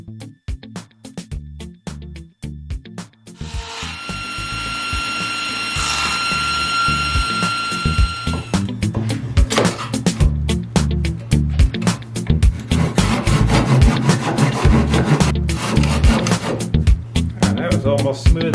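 A hand saw works through wood for a rocking chair in a loud, close, rhythmic series of rasping strokes that grow faster and denser, with a brief grinding whine partway through.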